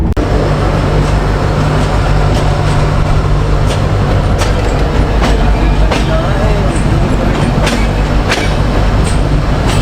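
Trivandrum Rajdhani Express first-class coach of Indian Railways running toward Vasai Road station, a loud, steady rumble and rattle of the moving train with faint rhythmic clicks throughout.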